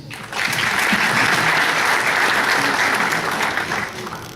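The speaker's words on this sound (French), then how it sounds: "peut-être encore une série d'applaudissements pour nos présentateurs" Sustained audience applause fills the room at a presentation event, a dense steady clapping that swells quickly and holds loud for several seconds before tapering slightly, with no voices standing out.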